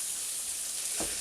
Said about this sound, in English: Now the pork sausage. Throw that in, give that a mix around for a few moments.